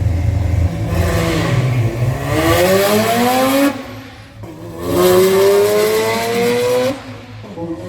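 Mazda RX-7 drag racing down the strip at night, engine revving hard through two rising pulls with a gear change between them, loud and sustained with a high rotary-style whine.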